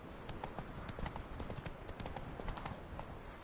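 A horse trots in The Witcher 3 video game, its hooves beating a quick, regular clip-clop that stays close and continuous, with no talking.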